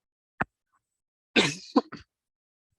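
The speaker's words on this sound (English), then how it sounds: "sorry again for coughing" A lecturer who has been ill coughs during a seminar talk: one short sharp hack, then a longer harsh cough with a couple of quick follow-ups, close and fairly loud with no speech around it.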